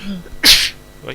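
A single loud, sharp sneeze bursts out close to the microphone, briefly following a word of speech and trailing off into a softer breath.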